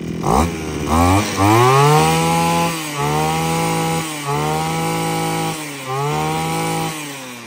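A large grass trimmer's two-stroke engine starting with a few rising pulls, then idling and revving loudly in repeated surges close by, with no talking.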